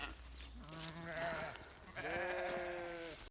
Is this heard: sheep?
yes